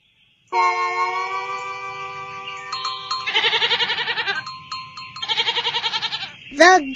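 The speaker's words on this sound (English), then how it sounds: "The goat." A goat bleats loudly and close, a long wavering cry followed by two rapid quavering bleats, then a short final call, alone with no talk.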